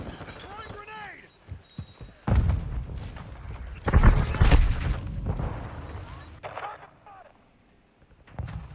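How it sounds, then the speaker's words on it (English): A grenade explosion from the Call of Duty Modern Warfare II video game lands as a heavy booming blast, followed by rumbling gunfire and bursts, with game voices calling out around it. "Throwing grenade!"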